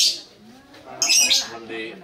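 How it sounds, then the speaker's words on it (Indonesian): Lovebird squawks and chirps in short bright bursts, sharp calls rising above people chatting nearby. "Lovebird. Lovebird."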